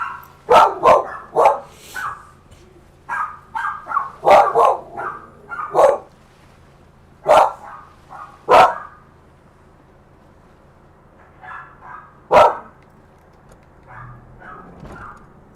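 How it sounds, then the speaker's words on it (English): Dogs in the video game Fallout 4 bark repeatedly in loud, irregular bursts, with yips and short gaps and quieter barks toward the end. "I can hear them barking"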